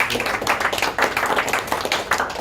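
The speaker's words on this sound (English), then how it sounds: "So give him a round of applause." A small audience at a discussion on estimating repairs for wholesale houses claps for a speaker in a short burst of fairly close, uneven hand claps.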